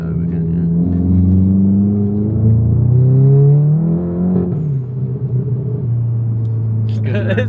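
A modified VW Golf GTI Clubsport Edition 40 with a Remus exhaust accelerates through the gears, a deep, loud rumbling drone rising in pitch, dropping at a shift and settling, with brief talk at the end.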